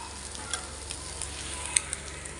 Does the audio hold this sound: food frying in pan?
yes